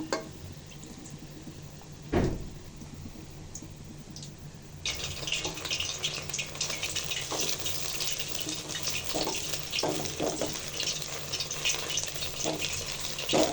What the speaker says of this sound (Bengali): এখানে 1 টেবিল চামচ তেল দিয়ে ডিমটা দিয়ে দিব।